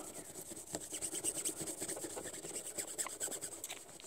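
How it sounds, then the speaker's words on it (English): Coarse steel wool rubbing surface rust off a Taurus Model 82 .38 Special revolver treated with WD-40, a steady close scratchy rasping scrub with short repeated strokes, fairly quiet, no talking. "and use that coarse steel wool"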